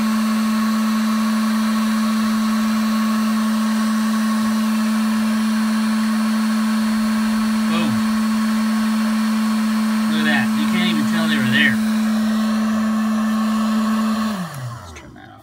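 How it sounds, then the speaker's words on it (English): A heat gun on a low setting passes slowly over a tobacco pipe stem to lift tooth marks, producing a steady close whirring blow with a constant hum, which winds down and stops near the end. "Passing slowly over a low setting on a heat gun."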